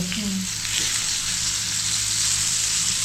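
Bombay duck and kingfish frying in a pan in a home kitchen, a loud continuous hiss of hot oil with a brief faint clink early on.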